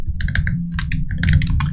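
Code is typed on a computer keyboard in a rapid, uneven run of crisp, close keystrokes over a low steady hum, with no talking.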